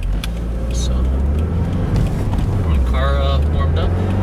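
A 2015 Subaru WRX engine idles steadily while warming up, a low continuous rumble with wind buffeting the microphone and a few faint tonal chirps in the background.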